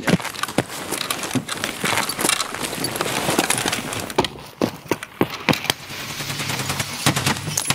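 An MP5 in Escape from Tarkov fires sharp, close, irregular shots and short bursts over several seconds, along with rustling movement and footsteps.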